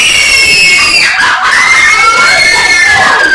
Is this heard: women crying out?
yes